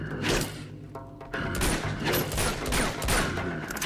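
Rapid bursts of gunfire from shooting in a video game, dense overlapping shots in continuous volleys with low thumps, loud and close throughout.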